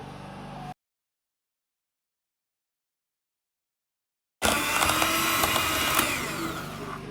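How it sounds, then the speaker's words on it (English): An electric hand mixer whisks 200 grams of margarine for a vanilla cake: a short whir at first, a stretch of silence, then loud, steady, close motor whirring with beater rattle until the end. "I'm going to whisk my butter with the help of my hand mixer"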